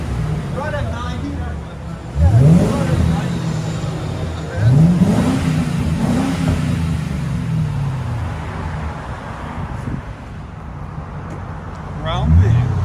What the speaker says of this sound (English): Borla Touring Edition. Dual exhaust.